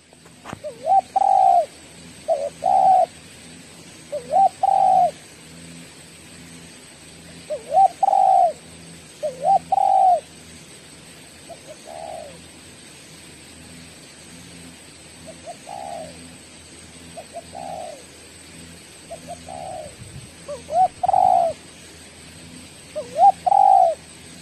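Birds calling in a forest, heard as a dove or pigeon giving repeated soft cooing phrases in irregular bursts, fairly close and clear over a faint steady hum.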